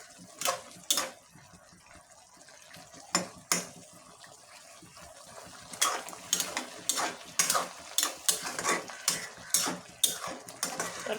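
Curry with bottle gourd and river fish being sautéed in a pan, with a soft background sizzle broken by repeated sharp scrapes and clanks of a spatula stirring, close and in irregular bursts, without talking.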